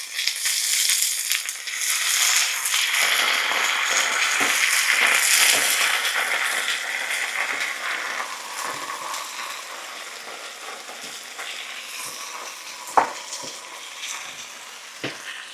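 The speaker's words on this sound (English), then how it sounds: "I want to saute this, add a little bit of beef broth to it." Beef broth sizzles and hisses in a hot sauté pan, a steady bright frying crackle that gradually settles, with occasional sharp pops and clinks from stirring.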